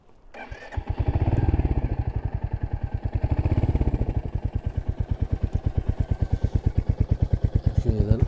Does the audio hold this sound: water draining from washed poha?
no